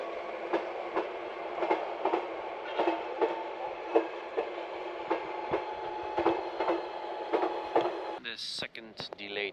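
Interior of a busy moving train, with steady rumbling running noise and regular clickety-clack of wheels over rail joints, ending in a brief burst of louder clatter near the close; faint background voices of passengers.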